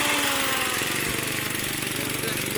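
A Perodua Ativa three-cylinder engine idles with a steady, slightly uneven rumble, loud and close, running continuously without revving.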